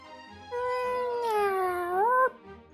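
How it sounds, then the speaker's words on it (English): A cat in the video game Dragon Quest VII gives a single drawn-out, rising and bending meow, clear and up front with no talking. "Cat!"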